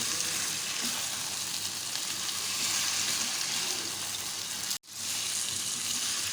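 Meat frying in a pan, stirred with roasted, coarsely crushed coriander and cumin for dhuwan dahi gosht; a steady close sizzle runs throughout with one brief break near the end.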